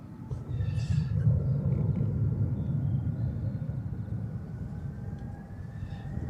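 A plane departs on a flight to Houston from Amsterdam Schiphol Airport, a deep, steady rumble of engines heard from a distance that swells early and then slowly fades, with a few faint high sounds from the surroundings.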